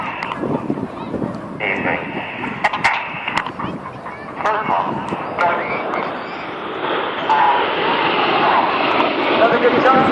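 Red Arrows display jets flying the Apollo roll at the Wales National Air Show in Swansea, a broad continuous engine roar that swells toward the end, with a commentator talking over it at times.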